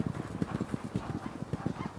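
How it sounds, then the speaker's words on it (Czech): Racehorses gallop toward the finish line at a flat race, hooves thudding in a fast, steady clip-clop rhythm, close and loud. "Teď dobíhá ještě Rui Faleiro a to je zároveň i poslední kůň"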